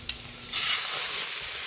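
Pork dropped into a hot pan with sautéed garlic and onion bursts into a loud, steady sizzle after a brief quieter moment, continuing strongly with no talking.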